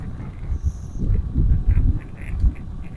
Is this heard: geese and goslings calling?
yes